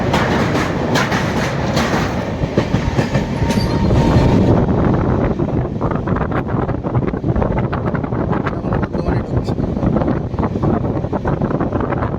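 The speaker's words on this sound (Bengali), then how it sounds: "নির্ধারিত সময় থেকে 13 মিনিট লেট করে আমাদের ট্রেন বর্ধমান জংশনের 2 নম্বর প্ল্যাটফর্মে এসে দাঁড়িয়েছে" The Howrah–Radhikapur Kulik Express, with new LHB coaches, rumbles loudly into Bardhaman Junction, wheels clacking over rail joints with wind buffeting close by, easing a little as it slows.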